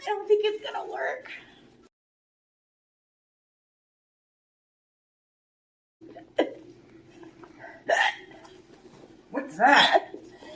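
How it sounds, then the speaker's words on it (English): A cartoon elephant voice makes a few short, separate hiccup sounds. Spoken chatter and a long stretch of silence come before them, and the hiccups are voiced by an actor rather than real. "I got the hiccup."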